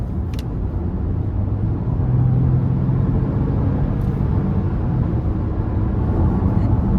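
A 2019 Lexus RX350L with its 3.5-liter engine revving in sport mode, a steady low droning hum that holds loud and even throughout with a slight swell partway in.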